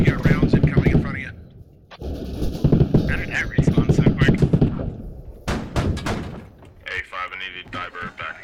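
Gunshots in the military shooter Squad, heard during a fight around armored vehicles such as a Bradley and BMPs, as scattered thuds and cracks mostly under steady radio-style talking, with a few sharper bursts between voices.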